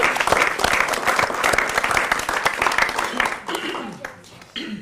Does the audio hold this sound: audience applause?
yes